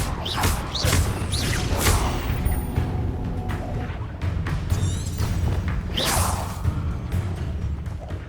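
The Expelliarmus disarming spell cast in Hogwarts Legacy: swift magical whooshes and swishing bursts sweep across a busy combat backdrop, with a couple of sharp rising flourishes and dull impacts.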